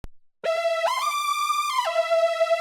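A bright analog synth lead using the Candy preset from Analog Lab plays alone after a brief click, holding a rich, buzzy tone that glides up in pitch, sustains, then slides back down near the end.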